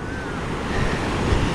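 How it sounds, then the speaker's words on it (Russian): A large ocean wave breaks in the surf off Sri Lanka, a loud, steady roar of churning water and spray with wind buffeting the microphone throughout. "Ой, вот это гигантская просто волна."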